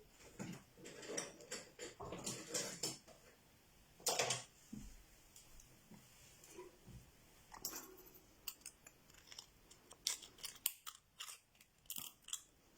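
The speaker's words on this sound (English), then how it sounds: "Then I need to cut that in half, so I need the other scissors" Scissors snip repeatedly in a series of sharp, crisp cuts up close, with small pauses and handling noises between them.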